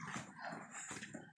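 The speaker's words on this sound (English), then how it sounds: "Yeah, Fergus is the biggest pup" A young puppy whimpers close by in soft, brief high whines, alone and quiet.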